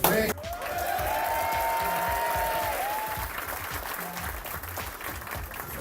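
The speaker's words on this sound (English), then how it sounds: "Let's give a big hand of applause for my little friend." An audience at a jiu-jitsu podcast recording gives sustained applause, a steady, even wash of clapping that starts abruptly and holds at one level for several seconds, with faint voices underneath.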